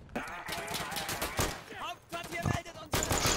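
Rapid bursts of gunfire ring out in the World War II shooter game Day of Infamy, with repeated sharp cracks and clustered volleys across a few seconds, while players talk over the shooting.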